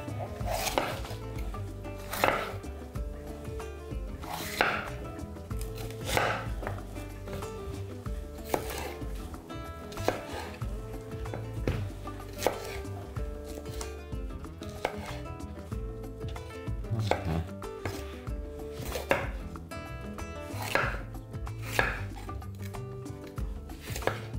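Sweet bell pepper cut coarsely on a board with a knife, giving steady close chops at an even rhythm for about twenty seconds, with quiet kitchen background and no speech.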